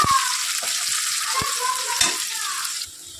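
Onions fry in oil with a steady bright sizzle and a few scattered spatula knocks, the hiss dropping away abruptly near the end.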